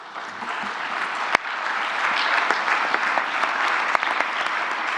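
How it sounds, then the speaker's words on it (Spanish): An audience at a debate breaks into steady applause that swells after a sharp clap near the start and holds as a dense, even patter of hands for several seconds, with no talking over it. "Entiendo que el aplauso es para ellos,"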